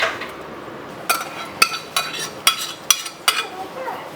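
A spoon clinks against a metal pot in a steady series of sharp knocks as cooked lentils are added and stirred, about six distinct taps roughly half a second apart, close and clear with no voices.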